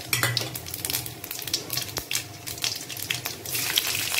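Mustard seeds, cumin and fenugreek thrown into hot oil in a pan for drumstick and shallot sambar, crackling and popping with a hissing sizzle and a few utensil clinks, close and lively with no talk.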